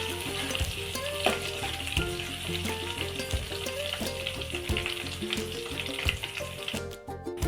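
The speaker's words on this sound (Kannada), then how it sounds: "ಶುಂಠಿ ಬೆಳ್ಳುಳ್ಳಿ, ಇದು ಎಣ್ಣೆಯಲ್ಲಿ ಸ್ವಲ್ಪ ಫ್ರೈ ಆಗಲಿ" Ginger and garlic frying in oil, a busy crackling sizzle with repeated scraping stirs throughout, close and steady, no speech.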